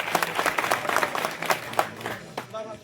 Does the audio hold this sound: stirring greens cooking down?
no